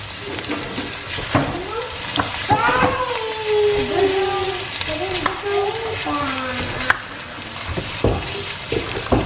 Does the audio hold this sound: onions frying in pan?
yes